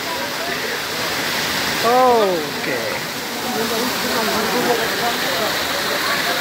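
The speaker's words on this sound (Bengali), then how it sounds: "এটা হচ্ছে হিমছড়ি ঝর্ণা" Himchhari waterfall in a hilly setting, a steady, close rushing roar of falling water running unbroken throughout, with a voice briefly speaking over it.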